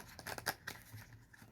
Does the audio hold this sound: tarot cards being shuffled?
yes